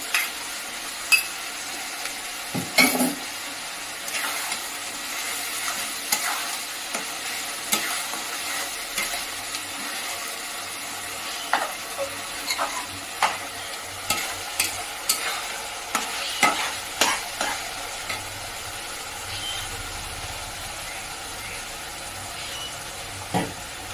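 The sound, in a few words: frying ginger garlic paste for mutton curry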